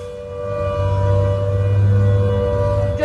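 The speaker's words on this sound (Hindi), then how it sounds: "दादर वेस्ट के इस इलाके में सायरन की टेस्टिंग की जा रही है" A civil defense siren being tested during a mock drill in Dadar West, Mumbai, holds one long steady wail with a sustained drone and steady hum, loud throughout and without speech.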